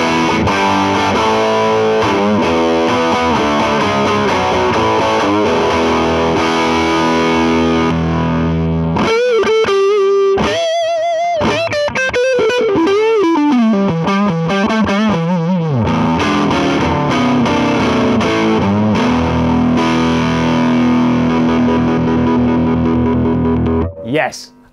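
Electric guitar cranked loud through an Orange Rocker combo amp, heavily driven chords and sliding bends with thick distortion, playing continuously and close for about twenty-four seconds before cutting off.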